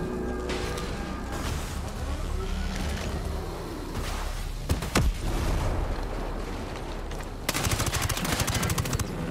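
Video game gunfire in Ghost Recon Breakpoint amid a gas-filled combat scene: dense continuous shooting with rapid automatic bursts and a sharp loud crack near the middle, ending in a fast rattling volley.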